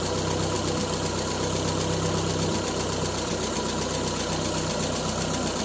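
An old Triumph Spitfire that has sat unused for twelve years idles with a steady, dense engine rumble and a faint rhythmic knock, loud and close throughout without speech.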